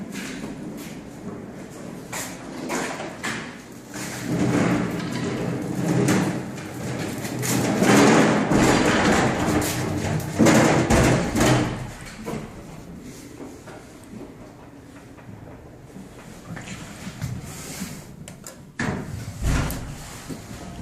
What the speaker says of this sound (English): Now, what type of elevator is this? Building C elevator. It's a northern elevator.